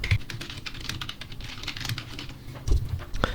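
Keys tapping on a computer keyboard as a text prompt is typed, a quick, steady patter of clicks with a few louder strikes, close and alone with no talking.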